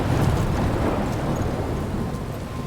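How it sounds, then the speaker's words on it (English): A thunderstorm in the video game Life Is Strange rumbles with a deep, loud roll of thunder over a dense wash of rain, continuous and heavy throughout. "Obviously, there's a storm."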